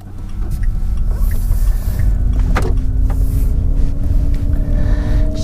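A Smart EQ fortwo, a small two-seat electric car, pulling away from a stop with a steady low drive hum and a faint rising electric whine, heard from inside the cabin with no voices.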